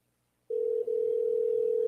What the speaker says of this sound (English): Sandy, oh, it's ringing.